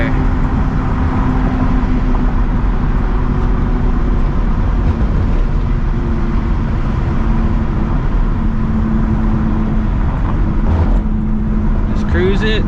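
A supercharged New Edge Mustang GT roars at full throttle from inside the cabin, a loud continuous engine drone with whine over a deep rumble, and voices talking beneath it.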